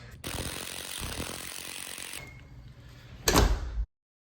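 A door swings shut with a rattling mechanical latch, followed by a sharp clunk as a bolt engages.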